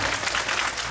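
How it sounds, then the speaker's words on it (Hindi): Brief burst of audience applause in a community hall during a Guru Purnima celebration, dense steady clapping from a crowd, short and continuous. "तो इसलिए इस टेम्पल के थोड़ी सी तालियां तो बनती है ना यार।"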